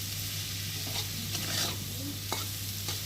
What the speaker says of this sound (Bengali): তো চলো আমি আলুটা ভেজে নিই